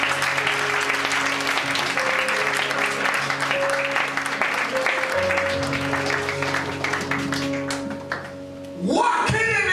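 A church congregation applauds and cheers for the Lord during a bilingual service, broad dense clapping sustained throughout with voices and sustained tones over it, a brief dip near the end before it swells again.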